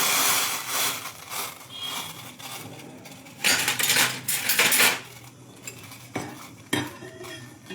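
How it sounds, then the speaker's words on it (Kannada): Green chillies being shifted in a pan during cooking, with metal utensils clinking and scraping against the cookware in irregular close bursts, some louder rattles in the middle, and no talking. "ನಾನು ಹಸಿಮೆಣಸಿನ್ಕಾಯಿ ಇರೋದನ್ನ ಟ್ರಾನ್ಸ್ಫರ್ ಮಾಡ್ತೀನಿ"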